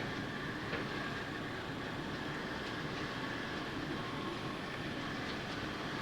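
A model train locomotive running a little fast: a continuous rumbling with a steady mechanical whir and faint rhythmic clicking of wheels on track, constant in level throughout.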